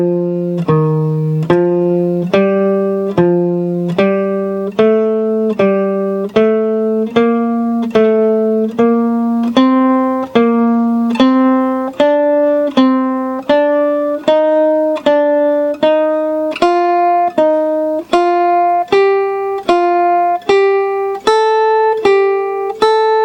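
A repeating three-note scale pattern in thirds on a plucked string instrument, with steady, even notes climbing gradually higher over a long run, played alone with no talking.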